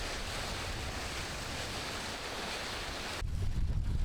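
Ocean surf rushes in a continuous broad wash, roaring steadily before a sudden shift to a lower, rumbling churn of water near the end, with wind buffeting the microphone.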